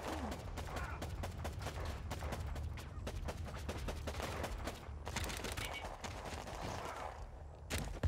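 Rapid bursts of grenade launcher fire and explosions in the WARPIPS military strategy game crackle in dense, overlapping volleys. The battle runs loud and continuous with sharp repeated impacts, and no voices are heard.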